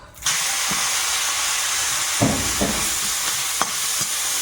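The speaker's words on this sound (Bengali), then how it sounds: "চিংড়ি মাছগুলো সব একসঙ্গে প্রথমে ভেজে নেব কড়াইতে তেল দিয়েছি" River prawns fry in oil in a wok, giving a continuous close sizzle and hiss, with a few soft scraping stirs and clinks breaking through.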